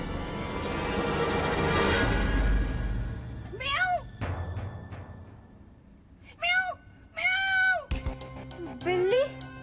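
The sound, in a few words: cat meowing inside a room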